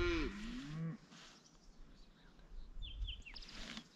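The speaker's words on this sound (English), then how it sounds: "Now we're in the middle of all these fucking cows." A cow lets out a loud, drawn-out moo close by in a pasture in Nebraska, followed by quieter outdoor ambience with faint bird chirps.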